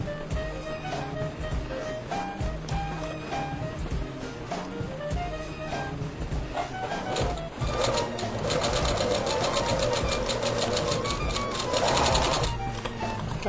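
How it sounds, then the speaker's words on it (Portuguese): A sewing machine stitches fabric for a small owl pendant, a steady close rattle of needle strokes that runs throughout and grows denser and louder in the second half. "Agora eu vou pegar aqui do comecinho do molde pequeno e vou fazer uma costurinha até chegar no final"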